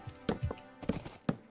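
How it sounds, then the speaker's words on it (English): A horse in Minecraft clip-clops along slowly, several distinct hoof thuds landing in an uneven walking rhythm, close and fairly quiet. "Brought a horse into your home."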